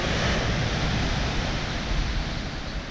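Pacific Ocean surf at Cabo in Baja California roars steadily and close, a dense, continuous wash of breaking waves with no voices over it.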